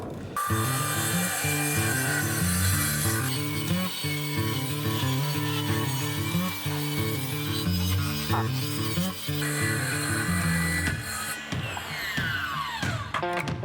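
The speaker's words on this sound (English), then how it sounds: "I just don't want to lie on my back and cut above my head, but I'm going to have to." A saw cuts timber overhead during a caravan floor renovation, with close, steady back-and-forth rasping strokes in an even rhythm, briefly pausing and shifting before the cutting resumes.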